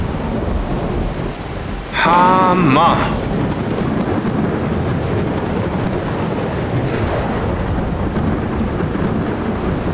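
Heavy rain pours steadily in a Skyrim VR thunderstorm, with loud rumbling thunder throughout and a brief shouted word early on.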